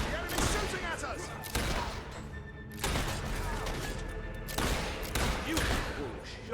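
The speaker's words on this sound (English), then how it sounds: "The enemy's shooting at us!" Enemy gunfire in the Fable 3 video game: loud bursts of shots in several dense volleys, with shouting voices and game noise between them.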